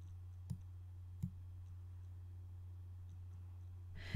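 Computer mouse clicks, two faint isolated taps early on and another near the end, heard against a steady low electrical hum with no talking.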